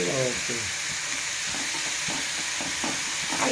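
Ginger and spices for an aloo paratha filling fry in a pan with a dense, steady sizzle and hiss, with rhythmic stirring scrapes underneath throughout.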